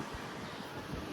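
A brief rush of wind buffets the microphone, a steady low roar with no voices.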